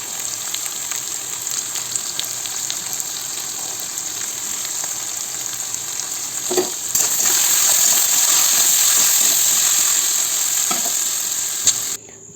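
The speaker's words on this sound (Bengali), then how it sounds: "আলুটা ভেজে নিই।" Potatoes frying in an Indian kitchen pan give a steady, close, hissing sizzle that swells louder partway through, with a few small clinks and no talking.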